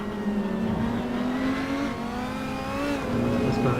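A GT3 race car braking at Silverstone in Assetto Corsa, its engine note sliding down through the revs as it slows, steady and moderately loud with no talk.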